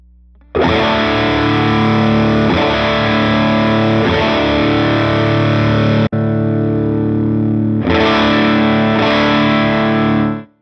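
Heavily distorted electric guitar through a Line 6 Helix amp model set to tight sag, loud sustained power chords in two long strummed phrases separated by a brief stop, dense and saturated with no voices.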